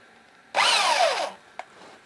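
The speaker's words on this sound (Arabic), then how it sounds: "هجيب بنطة 4 وأركبها في الشنيور، وأجي في نص البنطة في نص البرشامة وأنزل بالراحة واحدة واحدة" An electric drill fitted with a 4 mm bit bores out a rivet on a Toshiba twin-tub washing machine motor, a loud whining burst of about three-quarters of a second with a brief tap just after.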